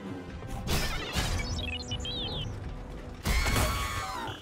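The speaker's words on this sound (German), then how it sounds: "Das ist wie der Song von R2-D2, das war ja auch ein Astromech-Droide." Astromech droid chirping and warbling in the video game Star Wars Jedi Survivor, rising and falling electronic whistles over mechanical clanks, creaks and impacts of gameplay action.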